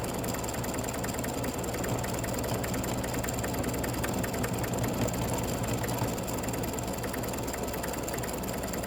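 A machine stitches the seams of a free-standing lace basketball earring, a steady, continuous mechanical whir with a fine rapid needle rhythm that holds unchanged throughout, with no talking.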